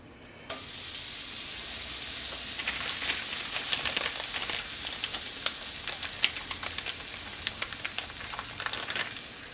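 Toast frying in real butter on a cast iron griddle, a steady close sizzle that starts abruptly and carries on throughout, with scattered small pops and crackles over the hiss.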